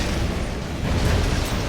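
Athena cannon destroyed in the Red Alert 3 strategy game, a dense roaring explosion burst filling the mix with loud, rumbling noise for its full length.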